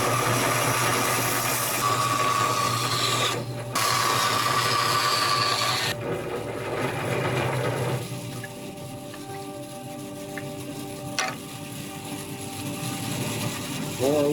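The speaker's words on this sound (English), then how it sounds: "Back at my trusty, dusty, and slightly rusty" An old, dusty, slightly rusty bandsaw cuts scrap fir into wedges, a loud droning whine with bursts of cutting that stop abruptly, followed by a quieter motor hum and scattered knocks of wood; no talk.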